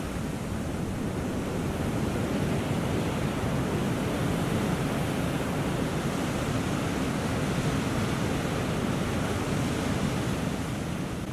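Ocean surf rolling against the basalt columns of the Giant's Causeway on the Irish coast, a steady, loud wash of breaking waves with wind noise over the microphone throughout, no voices.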